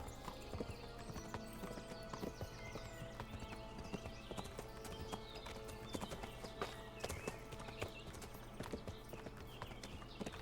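A horse being ridden in the medieval video game Kingdom Come Deliverance, with a steady clip-clop of hooves, an occasional whinny, and faint game ambience throughout.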